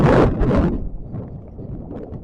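Gusty wind on a beach at Mazara del Vallo, Sicily, buffets the microphone in a loud rush that quickly fades to a lower, steady rumble.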